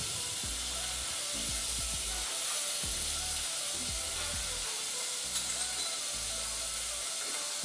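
Garlic and ginger sizzling in butter in a pan over moderate heat, a steady bright hiss running throughout with soft low thumps and clatter from stirring beneath.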